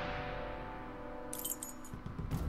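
A brief metallic jingle of keys being picked up in The Testament of Sherlock Holmes, bright and close, arriving in a couple of short clusters over a quiet low background hum.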